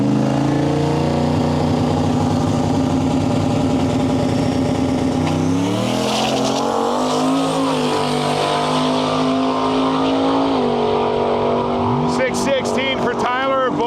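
A Bowles Deep Racing drag truck makes its first pass at Miles of Mayhem 2026, a Canadian drag-and-drive event. Its loud engine roars steadily and shifts gears as it pulls hard down the strip, with a spectator talking over it.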